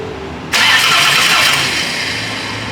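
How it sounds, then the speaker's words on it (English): A car engine at a race shop turning over without catching while the fuel system is primed, a steady loud churning drone that cuts in abruptly and runs on evenly, with no talk. "Do I need to crank it to make it prime?"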